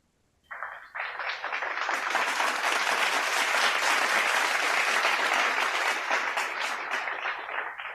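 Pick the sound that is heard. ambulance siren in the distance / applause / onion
applause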